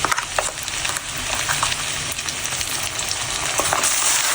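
Ground spice paste fries with well-browned onions in a pan, with a little water added. It gives a busy, crackling sizzle, punctuated by sharp clacks and scrapes of stirring, close and continuous.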